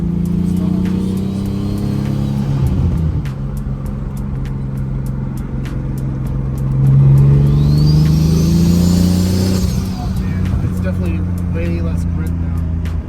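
A turbocharged BMW E36 on polyurethane-bushed, reinforced subframe drives under its own power, a steady mid-pitched engine rumble with a rising rev swell near the middle, close and loud throughout.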